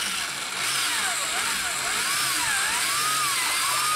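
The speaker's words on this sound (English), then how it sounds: "7/16 inch drill bit, right inside the corners here" A power drill with a 7/16 inch bit bores holes near the inside corners of a homemade emu and ostrich egg incubator, giving a loud, continuous motor whine whose pitch sweeps up and down as the speed varies.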